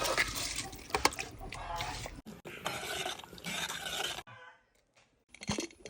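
Soaked, drained rice is tipped into a pot of boiling water at home, making a splashing, bubbling, watery rush that fades after a few seconds, followed by a short quiet gap and a final stir.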